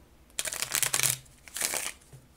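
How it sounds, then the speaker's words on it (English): A tarot card deck being shuffled by hand, two quiet riffling bursts of flicking cards, the first longer and the second shorter, close up with no talking. "let me shuffle it for you"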